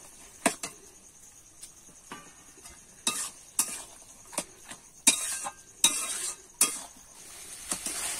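Potatoes and spices are sautéed in a pan, a quiet low sizzle punctuated by sharp, irregular clinks and scrapes of a spoon stirring against the metal, close by and without speech.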